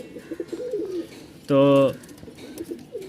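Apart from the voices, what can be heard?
pigeons cooing in a cage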